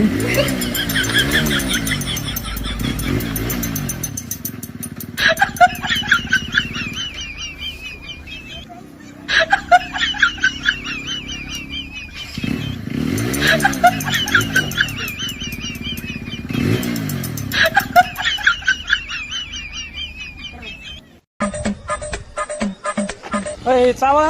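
A motorbike engine idles and revs nearby in a rural village setting, running steadily beneath stretches of loud talk, with chickens clucking intermittently in the background.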